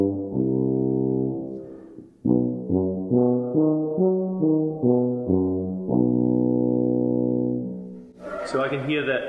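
A Besson tuba plays a series of sustained low brass notes, first long tones, then a run of shorter separate notes, then another held tone, loud and close, ending in a brief burst of other noise.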